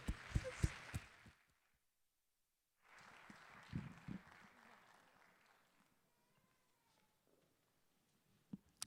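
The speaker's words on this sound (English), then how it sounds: "A round of applause" Applause from the audience at a Taste of Africa 2023 performance, arriving in two short bursts with sharp claps and a gap between them, then fading out into near silence with a faint voice.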